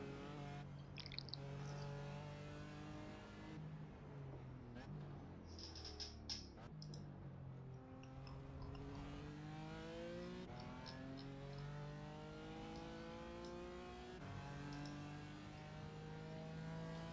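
Race car engine from a sim racing game, an onboard GT4 car at Daytona on a warm-up lap, with steady rising and falling engine tones as it shifts through gears, continuous and fairly close with light clicks.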